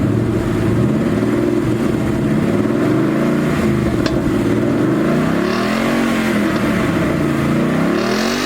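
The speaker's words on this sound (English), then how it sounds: "I'm gonna give it a couple of revs just so you guys can hear what it sounds like." A 2012 Ford Mustang 5.0 V8 revs up and settles repeatedly, loud and close, its deep engine tone swelling and falling in several blips over a steady idle.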